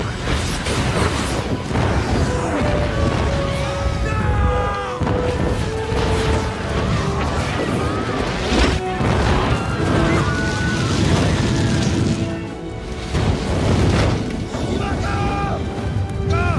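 Incendiary weapons fire and explode in a film battle scene, heavy booms and crashes layered with dense roaring noise and shouted voices throughout, loud and chaotic.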